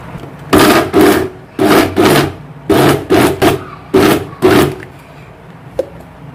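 A kitchen mixer grinder runs in about eight short, loud pulses, each roughly half a second with brief gaps, as it grinds leftover rice with coriander, salt and oil for rice pakoda.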